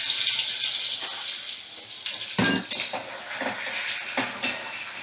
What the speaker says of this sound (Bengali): দেখো, চিংড়ি মাছগুলো এবার আমি তেলের মধ্যে দিয়ে দিলাম